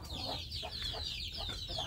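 Free-range village chickens in an outdoor run cluck in a quick, repeated chatter on a bright morning, soft and fairly close, with no talking.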